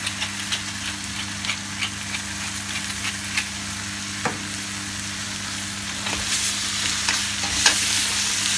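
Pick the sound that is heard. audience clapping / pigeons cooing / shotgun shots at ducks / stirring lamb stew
stirring lamb stew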